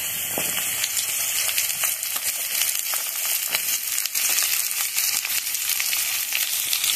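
Cut moringa drumstick pieces drop into hot oil alongside frying bitter gourd, setting off a steady, close crackling sizzle with scattered pops and stirring scrapes, with no voices.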